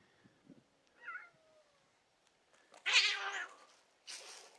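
A pet cat named Ozzy, outdoors at night by a bonfire, gives several loud, drawn-out meows and yowls in separate bursts, the later ones strongest and closest.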